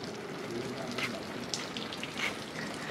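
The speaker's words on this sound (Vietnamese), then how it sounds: "mở cái mưa nhân tạo lên để cho mát ông bà nội ngồi trong đây" Artificial rain misting system spraying water to cool a seating area at a family home in Vietnam in summer, a steady close hiss with fine patter and faint voices in the background.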